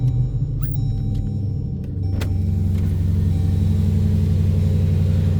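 A 2015 Jeep Grand Cherokee SRT engine, heard from inside the cabin, cranks and fires up, then settles into a deep, loud, steady rumbling idle with a sustained low growl; brief clicks and whirs of cabin controls come near the start.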